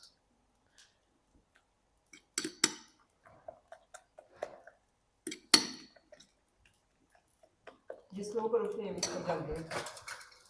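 A spoon knocks and taps in a bowl of BBQ chicken omelette mixture in sparse, separate clicks, then gives way to a longer stretch of quicker mixing at the end.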